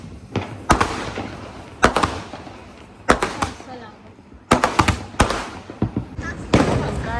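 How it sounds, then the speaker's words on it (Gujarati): Diwali firecrackers set off by children pop in sharp, close bangs, several single cracks and quick clusters spread across the moment, with voices chattering between them. "બચ્ચા પાર્ટી ફોડી રહી છે ફટાકડા"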